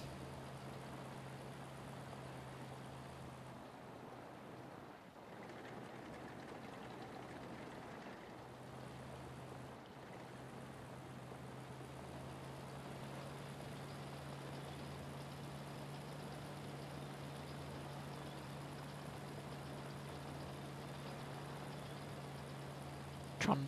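A World of Tanks tank with a damaged engine trundles slowly along, producing a steady, low, monotonous engine drone with a constant hum that continues unchanged throughout.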